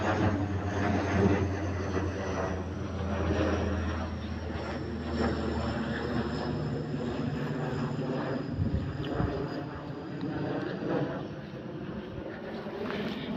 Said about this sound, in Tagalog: Yan eroplano.